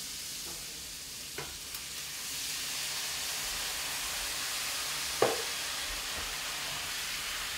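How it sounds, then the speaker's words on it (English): White wine poured in to deglaze a hot pan after fresh garlic, cooking for blackened salmon, a faint steady hiss and sizzle with a few light clinks. "So I got a little white wine to deglaze your pan."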